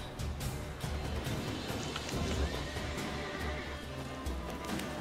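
A horse whinnies loudly in The Witcher 3 amid clopping hooves and busy, clattering background noise, with no talking.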